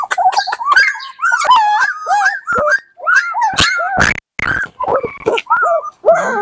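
A puppy lets out a rapid run of high-pitched whimpers and short yips, close and fairly loud, with barely a pause between cries.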